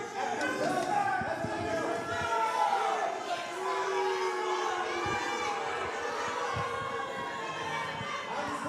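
A wrestling event crowd roars and cheers, a dense wash of many voices that swells early and then stays steady, with shouts rising out of it.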